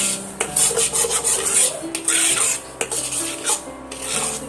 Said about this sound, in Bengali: দেখতে পাচ্ছেন আমার সুজিটা কত সুন্দর এখানে ভাজা ভাজা হয়ে যাচ্ছে